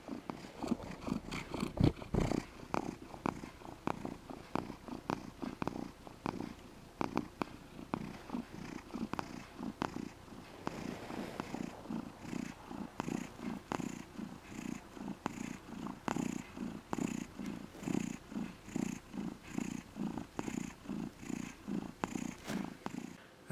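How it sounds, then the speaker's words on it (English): A cat purrs loudly and close by, a steady rhythmic rumble of in-and-out breaths continuing throughout with no talking. "Bear is so happy, he's just purring and purring so loudly."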